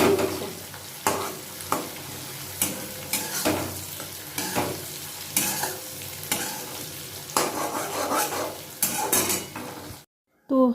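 Fish fat frying in its own rendered oil in a pan gives a steady close sizzle, broken by repeated stirring scrapes and clinks, then stops abruptly near the end.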